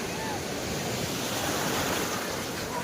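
Sea waves at Puri beach roll and crash steadily as a continuous loud surf wash, with wind buffeting the microphone throughout.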